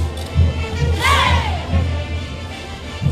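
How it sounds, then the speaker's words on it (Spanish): A crowd at a festival parade lets out a loud collective shout that swells and fades, over a steady low drum-like beat and background band sound. "Ese grito para los que estaban durmiendo."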